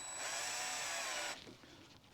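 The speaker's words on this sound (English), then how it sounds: "Then I take my nail. I drill it down the correct way." A power drill drives a nail into wood for a raised planter box, a loud steady whine for over a second that cuts off, followed by quiet handling noise.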